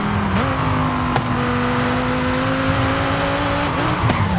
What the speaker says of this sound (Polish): Ależ brzmi ten Viper.